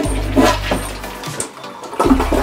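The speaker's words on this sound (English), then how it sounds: "toilet was flushing" A household toilet flushing nearby in a garage or workshop, a rushing water surge that fades out, then a fresh burst of running water near the end.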